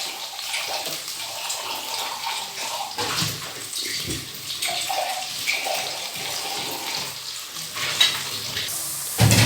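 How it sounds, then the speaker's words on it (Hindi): Onions fry over medium-low heat in a pan for aloo keema, giving a soft, steady crackle and bubbling that stays fairly faint throughout. "ये देखिए हमारे प्याज अभी फ्राई होंगे"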